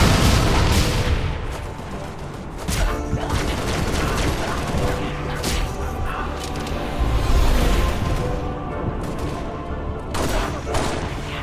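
Grenade blasts and rapid gunfire ring out in the Halo: Spartan Strike game, a dense continuous barrage of booms and shots with repeated loud bursts across the whole stretch.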